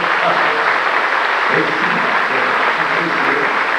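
Steady, dense audience applause fills a church testimony gathering, a crowd clapping loudly and evenly throughout with a faint voice underneath.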